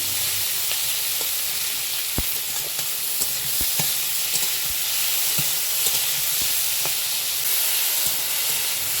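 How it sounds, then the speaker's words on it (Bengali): Vegetables and spices sizzle steadily in hot oil, a constant bright hiss with scattered clicks and scrapes of stirring, no voices. "এবার সমস্ত উপকরণগুলোকে একটু ভাজা ভাজা করে নেব কিছুটা টাইম নিয়ে"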